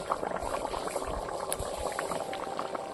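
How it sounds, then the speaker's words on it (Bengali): Water boiling in a pot in a home kitchen while paneer curry cooks, a soft continuous bubbling with scattered small pops and gurgles, fairly quiet and close, with no voices. "জলটা ফুটে গেছে"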